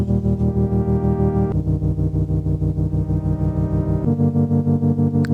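A synth chord progression pitched up an octave and reversed, with fake sidechaining, pulses rhythmically in steady pumping waves, with three chord changes, loud and alone.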